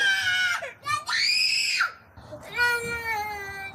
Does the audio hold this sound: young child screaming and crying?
yes